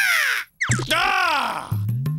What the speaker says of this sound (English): We must follow those kind seagulls.